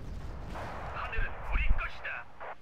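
Artillery fire in Wargame: Red Dragon, low booming blasts rising toward the end with a heavier thump near the middle, heard beneath a voice talking.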